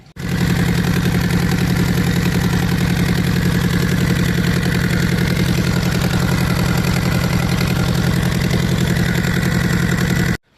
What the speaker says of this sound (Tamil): இப்போ இன்ஜின் கரெக்டாக ஐட்லிங் ஓடுது